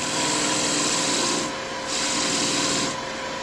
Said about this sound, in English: I'll try to finish some of that off with just a 1/2 inch skew